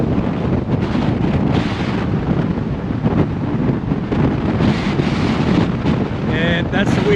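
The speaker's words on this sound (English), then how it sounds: "that's the wind. She's windy." Heavy wind buffets the microphone with a loud, steady rumble and roar that gusts throughout, drowning out everything else, at a coastal lookout near Weipa, Cape York.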